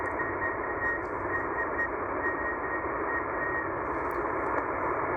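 A shortwave Morse code CW signal, attributed to station XSQ in China, comes through on a receiver as a steady tone buried in a dense wash of static and hiss that continues unbroken throughout.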